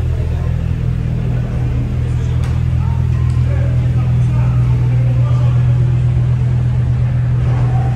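Sports car engine at the Spa circuit, among Ferrari 488 Challenge, Porsche GT3 RS and Lamborghini Huracan race cars, a loud, constant low engine rumble and hum that holds steady throughout.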